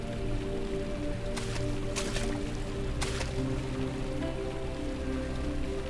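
A dripping water fountain in Amnesia: The Dark Descent splashes steadily, a continuous wet patter with a few sharper drips, under a low ambient hum.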